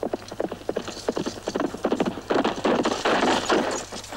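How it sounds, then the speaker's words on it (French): Rhythmic clip-clop of horse hooves, steady and fairly close, growing louder and denser toward the end with a low background hum. "Un homme à cheval!"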